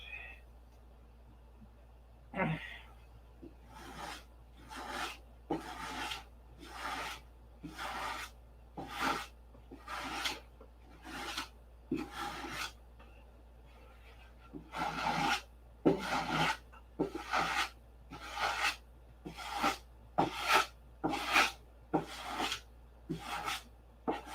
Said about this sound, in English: Need to change up on a sandpaper.